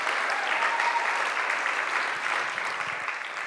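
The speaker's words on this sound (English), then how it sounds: "Let's cheer for my mom, just for the sake of it." Audience at a lightning talk applauding and cheering, dense sustained clapping that fills the room and slowly tapers.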